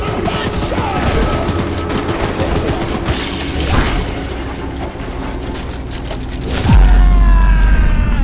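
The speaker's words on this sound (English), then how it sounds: "Get some gunshots!" Continuous rapid machine gun fire from the video game Choo-Choo Charles rattles loudly with heavy booms mixed in, ending in a deep low rumble.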